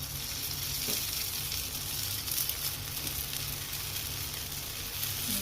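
A sabudana and potato paratha sizzles on a hot pan with oil or ghee, a continuous close crackling hiss at even loudness with no talking.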